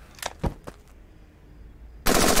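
Rifle gunfire in the Henry Stickmin video game: three quick cartoonish shots in a row, then a short quiet gap before a loud burst of noise rushes in.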